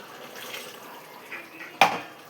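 Water poured into a pot of mutton curry masala for pressure cooking, a soft watery wash with a brief louder splash near the end, heard alone without talk.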